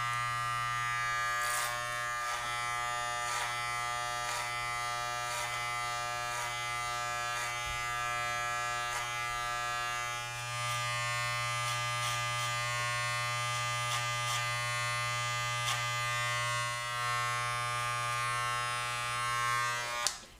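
Electric hair clippers buzz steadily and up close throughout a men's clipper-over-comb haircut, with faint rhythmic ticks from the comb passing through the hair and no talking.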